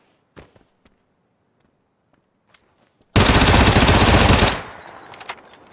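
A VSS rifle fired by a bot in a video game: a dense burst of rapid gunfire lasting about a second and a half, loud and close, after scattered faint clicks and taps, with no speech.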